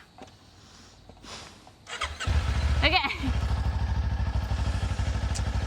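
A motorcycle engine cranks and catches after stalling, then settles into a loud, chugging idle close by, with a brief spoken word over it.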